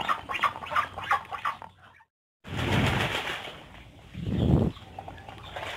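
A male jumbo Muscovy duck making low, breathy hissing and huffing sounds up close, in short bursts with a brief silent gap between them.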